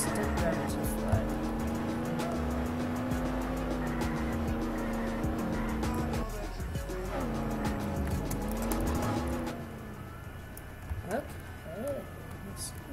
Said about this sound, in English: is this the car that's making all the noise?